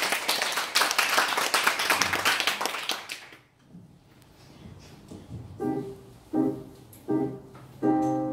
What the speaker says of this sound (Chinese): 我们以热烈的掌声迎接第二位的